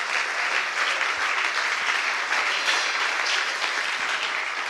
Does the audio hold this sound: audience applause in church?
yes